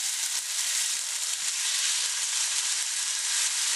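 Spicy kimchi, a hot pickled cabbage, sizzles and fries steadily in a pan while being stirred, a continuous close crackling hiss with no talking.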